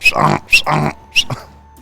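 A voice mimics a donkey's bray in a few loud, harsh bursts, rising and falling with a short pause between each honk.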